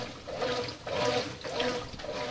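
Brastemp 8 kg washing machine with a dried-out bearing, agitating and rinsing: sloshing, churning water in steady surging strokes, moderately loud and close, with no talk.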